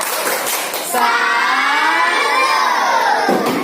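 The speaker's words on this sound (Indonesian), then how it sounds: "Tepuk salut dulu Dava." In a classroom, a group of children claps and shouts together in unison, loud and close, with rising and falling chanted cheering voices over the clapping.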